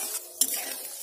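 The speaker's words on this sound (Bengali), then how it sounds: "ফ্লেমটা কিন্তু হাই আছে, আমি এটাকে সমস্ত মশলার সাথে 2 মিনিট মতো কষিয়ে নেব।" Spices fried and stirred in a pan over a high flame, with a steady close sizzle and one sharp scrape of the spoon partway through, short and alone with no voices.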